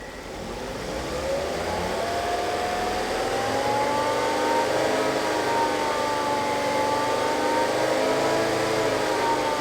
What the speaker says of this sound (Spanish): El motor está ya a 3000 RPM y no hay presencia de fallo de encendido en este motor